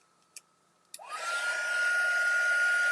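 Two soft clicks, then an embossing heat gun for card crafting switches on and spins up, settling into a steady close whirring blow with a high fan whine.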